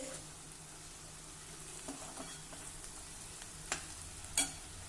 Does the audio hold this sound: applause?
no